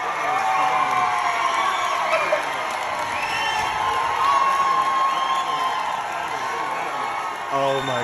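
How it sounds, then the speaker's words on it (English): A crowd at a Democratic caucus meeting cheers and whoops loudly in a sustained roar as the winner is announced, voices overlapping throughout. "listen to the crowd cheering when they hear the winner"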